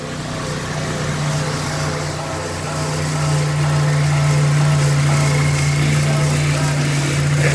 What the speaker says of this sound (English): here's the first startup after the engine bay wash